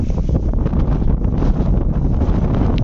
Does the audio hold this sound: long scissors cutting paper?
no